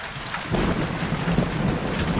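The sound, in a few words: thunderstorm with rain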